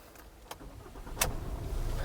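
A Hyundai Venue HX5 diesel automatic fires up with a short starter crank, then a low, steady diesel idle settles in close by, with no one talking.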